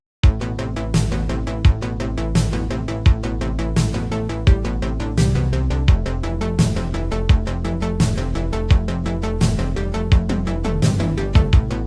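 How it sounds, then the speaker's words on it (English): A fast, steady synth arpeggio ripples over a deep pulsing bass line, with punchy low hits accenting the beat in a driving electronic groove. "this arpeggio pattern with that bass line gives us a very interesting and driving feel"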